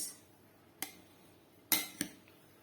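Chicken macaroni salad being mixed in a bowl with a utensil, giving a few sharp, separate clinks and scrapes at fairly low volume with quiet gaps between them.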